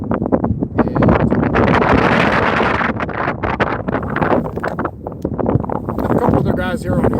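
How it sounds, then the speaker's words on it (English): Strong, gusty wind of about 15 to 20 mph on a frozen lake buffets a phone microphone during ice fishing, a loud continuous roar and rumble with bursts of voice mixed in. "the wind has picked up quite a bit"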